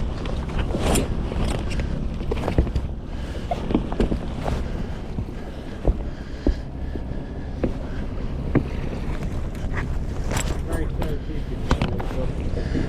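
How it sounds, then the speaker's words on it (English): Water trickling and swishing along the hull beneath a sailing boat under sail on the Solent, with no engine running; steady wash with wind buffeting the microphone and people talking over it. "it's just the water trickling along under the boat"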